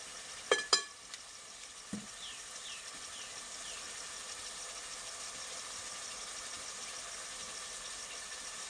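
Masala with turmeric roasting in a pan for aloo paneer: a steady, soft sizzling hiss runs throughout, opened by a few sharp clinks and clatters of a spoon against the pan, with no talking.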